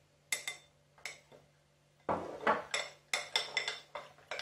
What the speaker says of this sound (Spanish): Remover muy bien, que se disuelva muy bien la gelatina en la nata